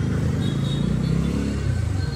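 Road noise from a Bajaj Dominar motorcycle moving through ordinary city traffic, a loud steady low engine rumble with wind, no talking.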